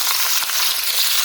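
Onions frying in hot oil for chicken curry, a dense close-up sizzle with faint crackles throughout, no voices.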